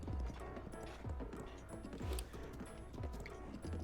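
Hooves clip-clop steadily from a horse trotting along a path in The Legend of Zelda: Breath of the Wild, a regular rhythmic patter of close, moderately loud footfalls with no voices.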